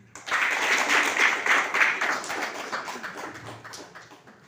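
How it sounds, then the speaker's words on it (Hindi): Applause at an Indian Christian wedding ceremony, a burst of clapping from the gathered guests that starts abruptly, stays strong for about two seconds, then thins and fades. "कोई ताली तो हो जाएगी।"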